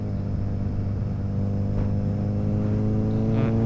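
A motorcycle engine accelerates out of a curve on a road, a steady loud mid-range drone with clear harmonics that climb gradually throughout.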